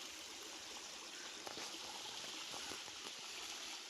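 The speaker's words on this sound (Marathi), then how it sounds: "हा बघा धबधबा" Water pours steadily from a hillside waterfall that flows year-round, heard as a constant faint wash of rushing, splashing water with no voices.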